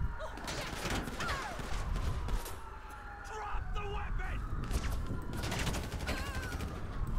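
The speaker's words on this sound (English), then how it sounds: "It's blind fire." Gunfire in the video game GTA V during a police shootout, with bursts of shots and mechanical clatter running continuously under game ambience and engine noise.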